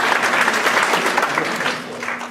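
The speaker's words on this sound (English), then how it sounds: "give Jamie a nice round of applause" An audience at a Madison Idol 2019 singing competition claps steadily for a judge, a dense sustained round of applause that thins slightly toward the end.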